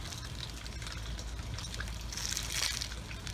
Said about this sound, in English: I'll water this in.